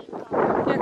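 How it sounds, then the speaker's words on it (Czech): Wind gusting outdoors, a broad rushing buffet that swells louder after the first moment and holds steady at close range, a speaking voice faintly mixed in. "No, fouká vítr."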